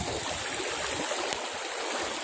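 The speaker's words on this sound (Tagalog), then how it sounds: "Ilog po yung aking dadaanan ngayon." A river flows steadily nearby, a continuous rushing wash of water with no voices, in rural Occidental Mindoro, Philippines.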